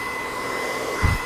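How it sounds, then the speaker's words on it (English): A handheld hair dryer blow-dries and molds hair into shape, giving a steady close whooshing whir with a brief low thump near the end. "I'm gonna mold it, blow dry it into the way that I want it to lay"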